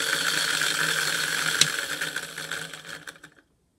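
A simple demonstration electric motor with a coil whose connection reverses every half turn spins with a steady, close mechanical whir and faint rapid ticking, then winds down and stops.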